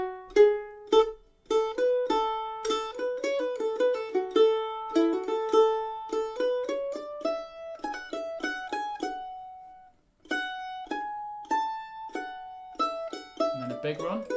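A mandolin is played slowly, with crisp plucked notes and quick triplet flourishes over a steady melodic line, close and clear, ending in a faster run.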